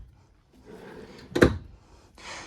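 A single sharp thump of a full-extension ball-bearing plywood drawer sliding shut in a Forest River Surveyor travel trailer stands out midway, followed by a brief rolling slide; otherwise quiet.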